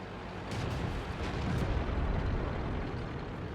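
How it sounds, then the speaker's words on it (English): Churchill 7 tank cannon shots in World of Tanks, heavy booming bursts blending into a dense, continuous low rumble of battle, sustained at moderate loudness with no voices. "As you can see, the shots from the Churchill 7 are not going in."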